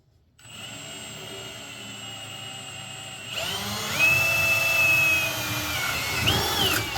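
A power drill whines steadily, its pitch climbing as it bites in, continuous and close with a brief dip near the end.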